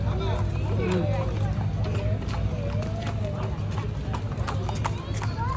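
Horse hooves clip-clop steadily at a horseback riding spot in Baguio City, a brisk continuous rhythm of sharp knocks under people chatting and a constant low background rumble.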